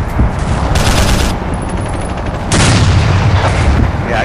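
Loud gunfire in close, sharp bursts: an initial shot, a rapid volley, then another sustained burst of shots with booming echoes.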